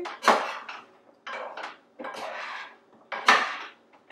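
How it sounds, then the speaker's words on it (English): Food tossed and stirred in a pan with a utensil, giving four clattering, scraping bursts of metal-on-pan contact in a loose rhythm, close and fairly loud with no talking. "you just mix all that stuff up. Almost like tossing a salad. In the frickin' pan."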